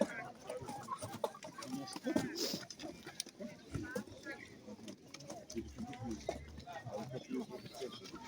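Chickens and roosters cluck intermittently amid a busy agricultural market in Ukraine, with people talking nearby throughout.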